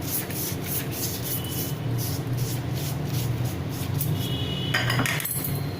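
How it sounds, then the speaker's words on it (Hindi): Oil being spread by hand over rolled-out mathri dough for crispy layered mathri, a steady close soft rubbing and smearing with faint clinks near the end. "और एक बार फिर हम इस पर तेल लगाएंगे।"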